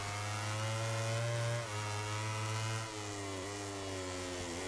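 Racing motorcycle engines in the MotoGP 2017 video game at Mugello, a loud buzzing drone that holds a steady pitch and then drops twice as the bike shifts or brakes, heard alone without talk.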